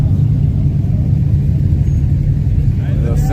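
A pickup truck engine rumbles loudly and steadily up close before a street race, a low continuous idle-to-rev drone with voices present over it.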